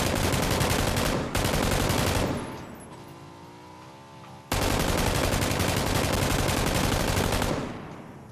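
Automatic sniper rifle firing in PUBG, long sustained bursts of rapid loud gunfire with a short pause between them and a vehicle engine faintly audible during the gap.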